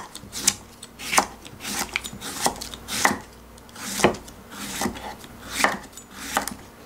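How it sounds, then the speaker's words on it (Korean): Knife julienning cucumber on a cutting board, a run of crisp, evenly spaced chops about once or twice a second, close and clear with no talking. "채를 칠 거예요."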